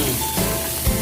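Steady loud sizzling as vegetables go into a hot pan with frying shrimp paste (bagoong alamang) for pakbet, close and continuous, with a brief clatter near the end.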